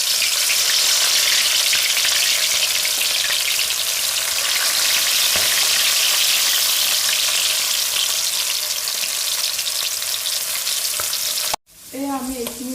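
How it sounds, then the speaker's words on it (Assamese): Corn kernels deep frying in a pan of hot oil give a steady, loud crackling sizzle throughout, with a brief break and some clinking near the end. "তেলখিনিত আমি এতিয়া মাকৈখিনি দি দিম আৰু আমি ডিপ ফ্ৰাই কৰিম।"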